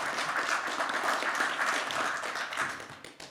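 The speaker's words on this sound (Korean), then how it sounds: "여러분 박수로 환영의 박수 부탁드리겠습니다" Audience applause greeting a member of the National Assembly at a talk concert for Vietnam War veterans and bereaved families, steady dense clapping from a crowd indoors, fading slightly at the end.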